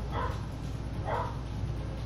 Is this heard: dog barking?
yes